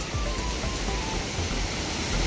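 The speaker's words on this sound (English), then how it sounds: "We're going to climb in the waterfall" A waterfall that people are about to climb into roars as a steady, loud, broadband rush of water, close and continuous with no talking over it.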